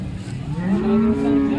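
A Jersey cow at a cattle market gives a single loud, close moo that rises and holds for over a second.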